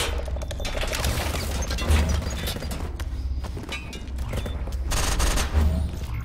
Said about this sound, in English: Shadow character has like dual auto fire pistols.